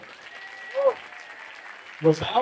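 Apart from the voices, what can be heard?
audience applause for garden team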